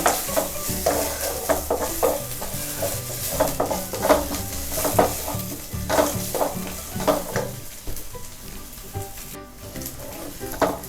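Onion, garlic and ginger sauté in a pan for a tomato chutney, with steady close sizzling broken by repeated rhythmic scrapes and stirs of a spoon against the pan.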